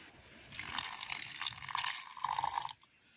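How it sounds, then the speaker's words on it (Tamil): Water pours steadily for about two seconds into a porridge mixture before blending in a mixer, a bright splashing stream that stops abruptly, followed by a couple of faint drips. "இதோட வந்து நாங்கள் அளவான தண்ணியும் சேர்த்து கொள்ளுவோம்."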